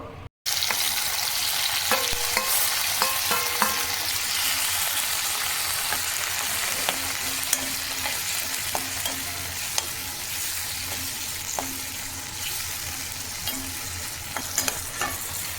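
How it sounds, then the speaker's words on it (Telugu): Four medium tomatoes fry in a pan with a steady close sizzle, while a spoon scrapes and taps the pan in irregular bursts throughout, and no one talks. "బాగా వేగిపోవాలా టమాటాలు మెత్తగా. కొంచెం మూత పెట్టేస్తే వేగుతాయి."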